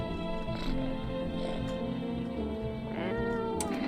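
A cat meows a few times indoors, the calls rising over a dense, steady background of music or radio, fairly close and moderately loud.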